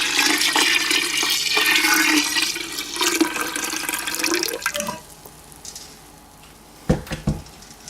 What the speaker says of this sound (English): And I'm just going to pour the tea in.